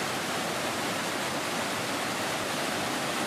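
Charpa waterfall in the Sholayar forest near Athirappilly, Kerala, gives a constant, dense roar of rushing water, loud and unbroken, with no voices.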